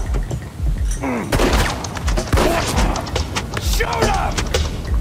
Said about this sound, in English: They're gonna use the Gatling gun